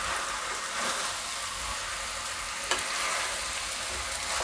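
A spoon stirs and mixes a tomato mixture in a hot pan, giving a continuous close sizzle with a single sharp scrape partway through.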